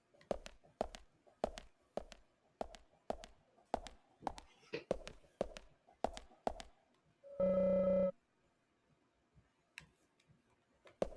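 A payphone in the video game Deadly Premonition gives a loud electronic ring burst lasting about a second, set after a steady run of sharp rhythmic clicks, with faint ambient sound following.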